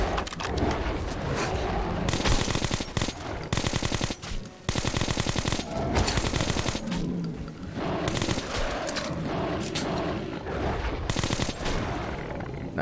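Sustained automatic fire from a machine gun in the post-apocalyptic shooter Metro Last Light, loud, rapid bursts filling most of the stretch with short breaks between volleys, no talking.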